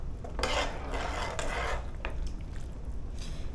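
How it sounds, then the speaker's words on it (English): A spoon scrapes and swirls through pasta sauce in a pot, a few close, raspy stirring strokes over a steady background hiss. "Give that a good stir."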